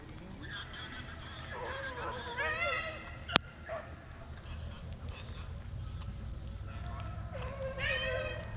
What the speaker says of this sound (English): I'm a sucker for unique barks, and that dog right there.